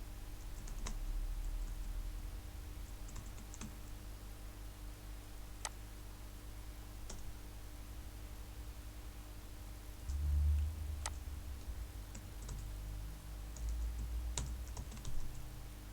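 Typing on a computer keyboard while writing Python code: quiet, close, irregular key clicks with occasional sharper taps and brief pauses, over a low steady room hum.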